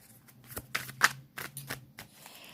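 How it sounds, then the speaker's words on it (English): A deck of tarot cards is shuffled by hand in a series of short, crisp riffling bursts, close and fairly quiet, with no talking. "let me shuffle these a little bit more"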